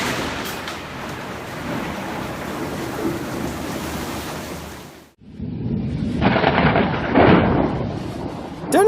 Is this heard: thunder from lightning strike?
yes